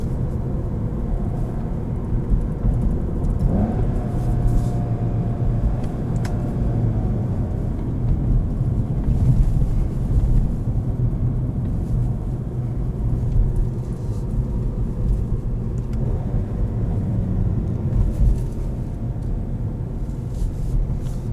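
From inside a moving 2019 Volkswagen GTI S (Mark 7) with a DSG gearbox, a steady low engine and road rumble fills the cabin throughout, even and unbroken, with no voices.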